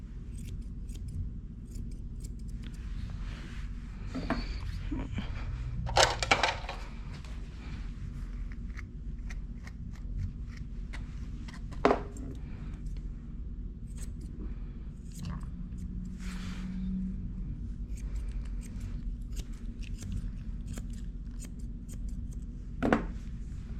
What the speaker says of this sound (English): Just gonna start off by trimming the stuff that's sticking out